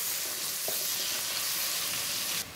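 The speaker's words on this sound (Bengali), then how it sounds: "দেখো মাংস ভাজা তেলেই আমি পেঁয়াজ ভেজে নিচ্ছি" Onions fry in oil already used to fry broiler chicken for biryani, giving a steady, close, continuous sizzle with no voices over it.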